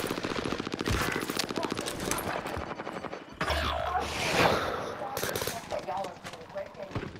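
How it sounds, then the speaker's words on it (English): Rapid automatic gunfire in an online shooter game, bursts of shots coming from several directions as the player is hit, loud and continuous, with someone talking excitedly over it. "I'm being shot by someone else"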